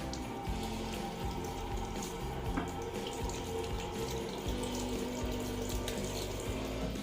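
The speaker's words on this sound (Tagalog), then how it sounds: "Hugasan natin itong ating mangga." Green mangoes being washed in water at a sink, with a steady close wash of running and splashing water that continues throughout without pause.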